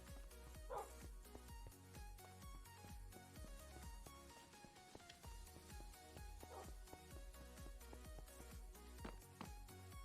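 A puppy barks and yips repeatedly in a video game, short sharp calls scattered over steady game music and ambient tones, fairly quiet in the mix.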